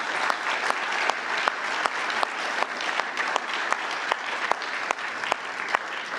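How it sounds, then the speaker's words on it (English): Sustained applause from a large audience at a NATO summit session on Women, Peace and Security, dense steady clapping with a few sharper claps standing out, filling the whole stretch without voices. "You can clap for that"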